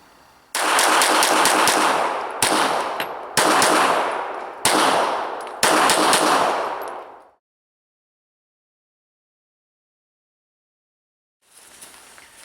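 A Smith & Wesson M&P 9c 9mm compact pistol fires in five quick, loud strings of rapid shots, each burst ending in a short echo. A long silence follows, then faint shooting resumes at the end.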